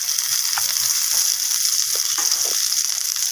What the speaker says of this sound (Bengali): আলু আর শসা দুটোকেই নাড়াচাড়া করে আমি ভেজে নিচ্ছি